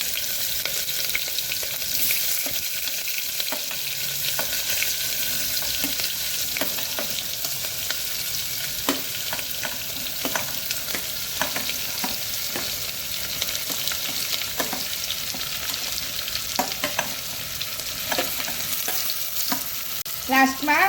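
Cut vegetables sizzle steadily in a hot pan of oil seasoned with fenugreek powder and asafoetida for a mixed vegetable khichdi, with regular scraping clicks as they are stirred and a brief clatter at the end.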